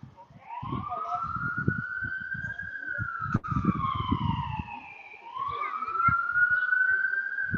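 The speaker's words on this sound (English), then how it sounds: "The ambulances." A wailing ambulance siren rises and falls in long sweeps at moderate distance during a baseball game, with muffled rhythmic background sounds beneath it.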